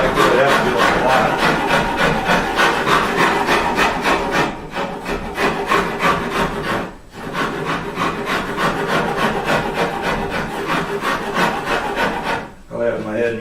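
Steady, continuous rasping of a Shinto rasp shaping wood on a custom electric guitar body, up close and loud, in long rhythmic strokes with two brief pauses.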